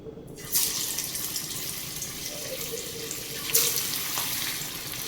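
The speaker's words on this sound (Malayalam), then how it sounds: "നമ്മുടെ എണ്ണ ചൂടായിട്ടുണ്ട്. നമുക്ക് ആദ്യത്തെ ട്രിപ്പിനുള്ള ഇട്ട് കൊടുക്കാം." Jackfruit vadas dropped into hot oil sizzle with a steady, loud, close hiss and crackle, with a sharper surge as the pieces go in.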